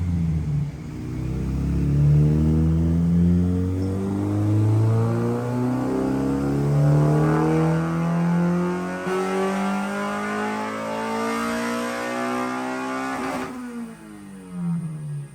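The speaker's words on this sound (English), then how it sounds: "That's through a muffler. And for the locals, this is full exhaust, not scav." A powerful Honda B16A engine with CTR pistons and ITR cam roars at high revs on a dyno through a muffler for a long stretch, its pitch climbing and rumbling loudly before dropping off abruptly near the end.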